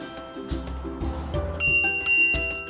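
A bicycle bell on a Yadea Innovator folding electric bike rings three times in quick succession, bright metallic dings standing out over a low background hum.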